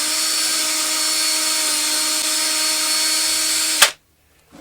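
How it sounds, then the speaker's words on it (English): A pilot drill bores pocket holes through a Kreg pocket hole jig (KPHJ320-INT), a steady, loud, close whine running nearly four seconds before cutting off abruptly, followed by near silence and a faint clunk. "The pilot drill has done its work, and the next step is to apply the screws."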